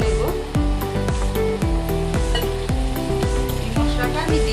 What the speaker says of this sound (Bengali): এবার আমি দিয়ে দিচ্ছি জিরে আর ধনের পেস্ট